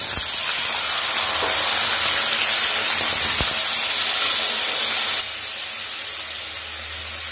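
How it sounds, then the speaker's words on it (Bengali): Potatoes drop into hot oil and fry with a loud, close, continuous hissing sizzle that eases to a quieter, steadier level partway through. "এখন আলু ভাজা করব"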